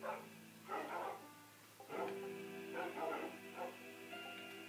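A dog barks in a few short bursts at moderate distance, with a whimpering yip between them over a steady background hum.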